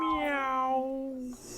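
A single drawn-out cat meow, tonal and sliding slightly downward, close and clear, lasting over a second before it cuts off.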